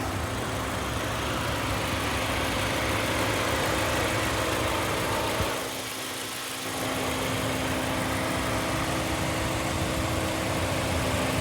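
A 2016 Toyota Camry XSE's standard 2.5-liter engine idles with its metal hood open, a steady close hum that holds throughout apart from a brief dip midway.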